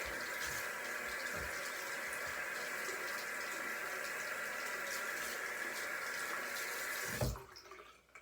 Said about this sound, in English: it takes a lot of water to clean your brushes